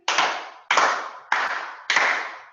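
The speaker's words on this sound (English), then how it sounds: "So first we're going to do 4 claps" Four sharp hand claps evenly spaced about two-thirds of a second apart, close and clear with a short ring after each, no talking.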